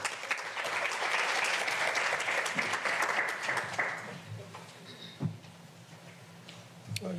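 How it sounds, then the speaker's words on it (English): Sustained applause from an audience at an academic exhibition event, steady and full for about four seconds, then thinning into scattered claps and a few sharp isolated ones, with faint voices underneath. "Round of applause."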